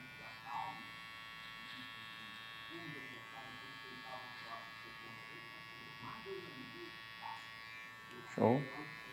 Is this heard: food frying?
no